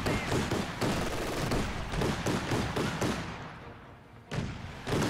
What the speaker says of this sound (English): why is he shooting at a Bofors?